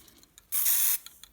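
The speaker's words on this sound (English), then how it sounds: "I'm also gonna spray a little bit of that gloss varnish in it." A single short burst of gloss varnish spray hisses for about half a second, loud and close, between quiet faint ticks.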